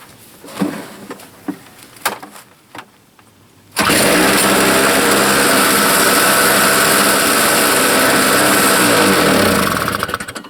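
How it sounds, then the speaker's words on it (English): A repaired two-stroke snow blower engine gives a few quiet clicks and knocks, then roars to life and runs loudly and steadily at close range until the end. "Put it back together and it runs."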